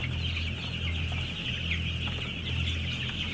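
A chicken farm in Thailand holding around 30,000 broiler chickens, a dense, constant chorus of clucking inside the house over a low steady hum of machinery.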